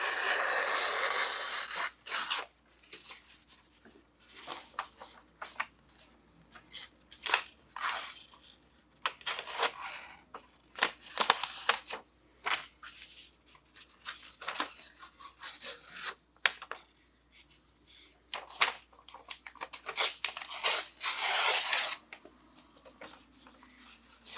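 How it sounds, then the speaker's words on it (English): Paper is torn by hand to distress its edges, making close, dry ripping and scratching noises in short, uneven bursts with brief pauses between pulls. "And then you're just going to tear."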